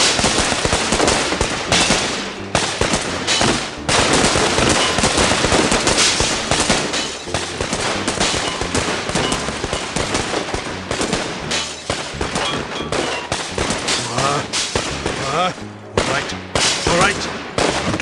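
Dense, continuous gunfire from the video game OverBlood 2 fills the whole stretch, with rapid bursts and overlapping shots layered with loud game effects and little pause.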